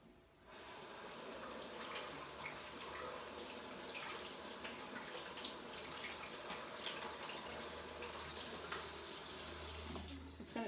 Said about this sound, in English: Next we're going to add our blueberries, which we're going to give them a quick wash.